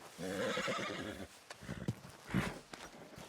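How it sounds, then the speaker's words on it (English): A horse in the video game Red Dead Redemption 2 lets out a loud, close, wavering whinny, followed by snorts and hoof clops. "Marston, you're gonna tether him up to Javier's horse."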